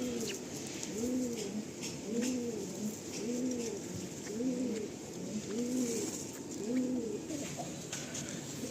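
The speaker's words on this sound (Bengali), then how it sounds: "সব পায়রাগুলো দেখুন অ্যাক্টিভ হয়ে রয়েছে" Andhra tournament pigeons coo in a steady, repeating rhythm, about seven soft rolling coos in a row, close by and alone against a quiet background hiss.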